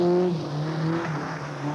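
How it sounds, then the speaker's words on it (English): A rally car powers away out of a bend on a special stage, its engine note rising steadily and loud in a continuous drone with no voices over it. "Once through the bend, it's foot off the brake and accelerate away to the next problem."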